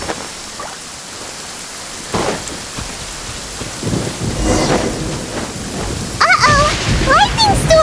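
A rainy thunderstorm in Genshin Impact, with heavy rain hissing throughout, thunder rumbling louder after the first couple of seconds, and bright crackling strikes toward the end; a voice speaks faintly underneath.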